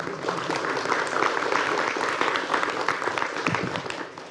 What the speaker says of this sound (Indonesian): Dan yang ketiga, boleh tepuk tangan?